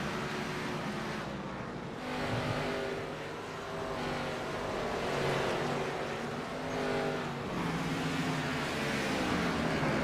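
Stock-style race cars circle the short track at Martinsville with a dense, buzzing engine drone, multiple overlapping motors swelling and fading as the pack rounds the corners, steady and fairly loud throughout.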